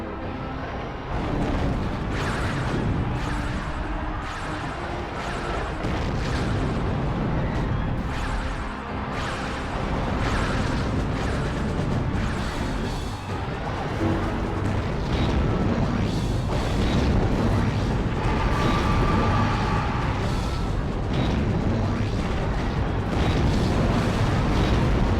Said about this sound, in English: Cannon is deadly.